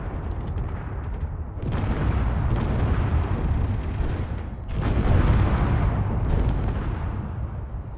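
Missile explosions in a video game: two heavy booming blasts, each a sudden loud roar that rumbles on and slowly decays, the second following a few seconds after the first, with no voices.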